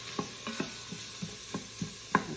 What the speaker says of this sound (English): saute these onions and the garlic